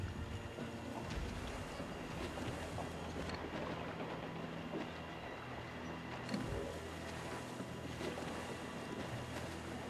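A sailing ship under sail in Assassin's Creed IV: Black Flag, giving a steady wash of wind and water with creaking hull tones throughout, a low continuous rush with no clear voices.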